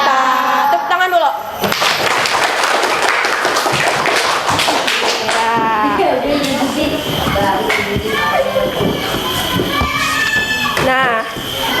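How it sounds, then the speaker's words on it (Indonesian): A school class clapping hands, a patterned, rhythmic burst of many small hands mixed with children's voices, thumps and shuffling in a lively classroom, loud and close. "Tepuk tangan dulu"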